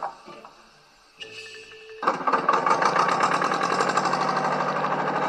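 A tractor engine in a farming video game cranks after a brief quiet stretch, catches, and settles into a steady, loud, chugging run with a dense rhythmic knock.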